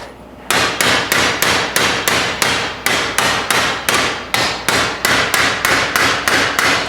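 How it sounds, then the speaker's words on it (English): Steady, evenly spaced hammer blows, about twenty in a row, ring out loud and close as a bent soft aluminum frame is lightly tapped back into shape so acrylic fits inside; no talking. "I'm going to lightly hammer it out so that it fits."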